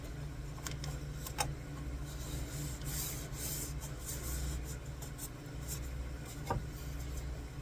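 Tool burnishing folded paper down, a soft repeated rubbing and scraping close by with a few sharper taps, fairly quiet and steady.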